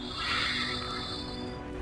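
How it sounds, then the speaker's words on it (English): Horses neigh and whinny amid a steady battle-game din in a Lord of the Rings strategy game, a sustained whinny standing out over a continuous mid-level background wash with no talk. "He's got Theoden and some horses here."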